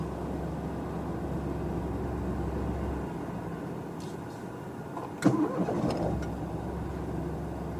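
Ford Fiesta EcoBoost engine, faulty with no boost, idles, then cuts out and is cranked and restarted with a brief sharp catch before settling back into a steady idle.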